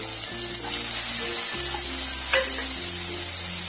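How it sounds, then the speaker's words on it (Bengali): Chopped tomatoes drop into spice paste in a pan for a Bengali charapona fish curry, giving a close, steady sizzle with spatula stirring and scraping, brief and unbroken. "এখন আমি এখানে টমেটো কুচিগুলো ছেড়ে দিলাম"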